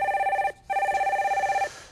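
Electronic telephone ringer on a Korean stock-market call-in TV broadcast, sounding two bright trilling bursts split by a short gap, clear and alone with no talk.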